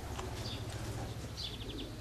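Racing pigeons arriving at a loft, with faint coos, chirps and brief wing flutters over quiet outdoor background noise.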